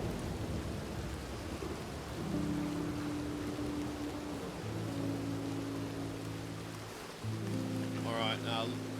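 Rain falling in a RedM roleplay game, a constant soft hiss with low rumbling beneath and sustained tonal hums, with faint voices in the background.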